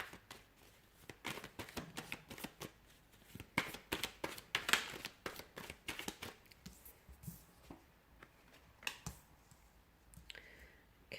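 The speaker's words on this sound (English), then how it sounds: "we'll give the cards a shuffle" Tarot cards shuffled by hand during a reading, giving a run of crisp, irregular riffling clicks and slaps, close and fairly soft, with brief pauses between bursts and no talking.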